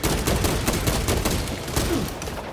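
Rapid gunfire rattles in a shooter video game, dense bursts of shots firing continuously and loudly up close with no pauses.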